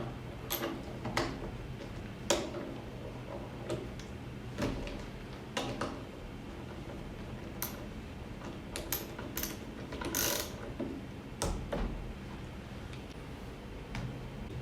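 An Atlas Copco PF6000 electric nutrunner tightening fasteners three times, heard as faint, sharp mechanical clicks and ratcheting bursts scattered over quiet room tone.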